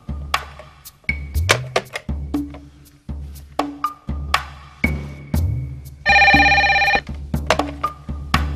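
A telephone bell rings in one sustained burst partway through, set among sharp knocks and thuds in an indoor scene from a Turkish drama series. No one speaks.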